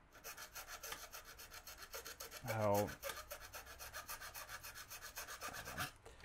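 Steady rhythmic rasping of sandpaper rubbed back and forth by hand, close up, with a brief louder scrape partway through.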